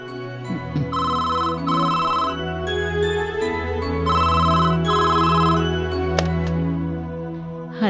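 A telephone rings in a home in a Tamil TV serial, giving two bursts of electronic ringing, a pause, then two more bursts over a steady background hum, with no talking.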